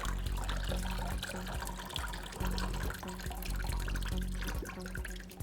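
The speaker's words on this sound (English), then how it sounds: "So what I do is let the water out." Water trickles and gurgles steadily as it drains from a soak of raw selvedge denim, a continuous wet rushing with low glugging pulses; no voices.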